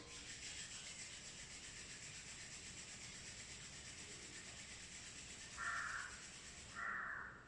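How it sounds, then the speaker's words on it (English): Palms rubbing together during a yoga session, a soft continuous hiss of skin friction that swells briefly twice near the end, quiet and close with no talking. "Now rub your palms."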